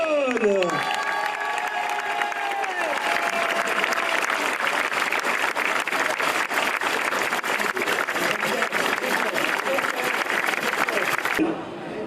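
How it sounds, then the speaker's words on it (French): An outdoor crowd at the Tour Alsace 2017 cycling race applauds and cheers the winner, with dense sustained clapping and shouts after a brief announcer's voice at the start. "Je vous demande d'applaudir le vainqueur du Tour Alsace 2017"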